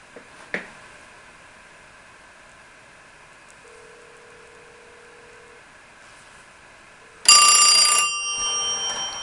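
Vintage Western Electric telephones, including 620A2 system sets, ring on an incoming line: a faint tone and a click first, then a loud burst of bell ringing near the end that tapers off.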